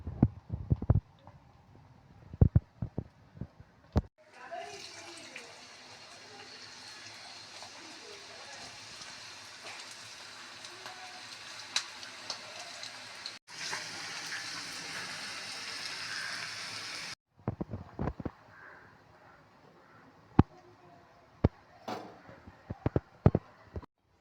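Chilli bhajji batter drops into hot oil and fries with a dense, close crackling sizzle like rain. Scattered clicks and taps surround it, and the sizzle cuts off abruptly.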